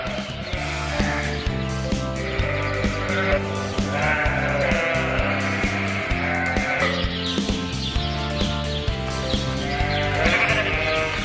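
Many sheep bleat continuously on a farm, a dense, overlapping chorus of close, loud cries that goes on without a break, with no talking over it.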